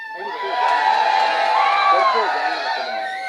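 Loud, sustained applause and cheering from a crowd at a union celebration event with a minister present, steady throughout with voices shouting over it.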